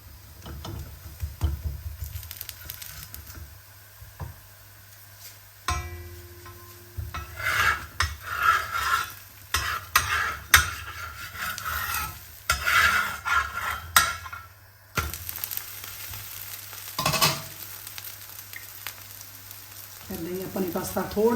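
Oil sizzles on a hot greased griddle as puda batter fries, while a utensil scrapes and clinks against the metal, with occasional spatula taps and stirring noises close by.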